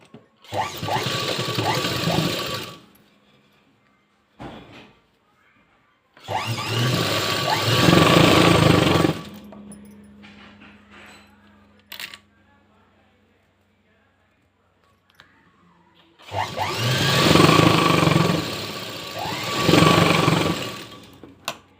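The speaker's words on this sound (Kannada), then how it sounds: "ಈ ಕಡೆ ಕೂಡ ಅದೇ ರೀತಿ ಎಂಡಲ್ಲಿ ಒಂದು ಸ್ಟಿಚ್ ಹಾಕ್ಕೋಬೇಕಾಗುತ್ತೆ" A sewing machine stitches a blouse in three loud bursts of steady whirring, each a few seconds long, separated by quiet pauses with faint handling sounds.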